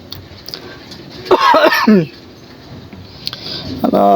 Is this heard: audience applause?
no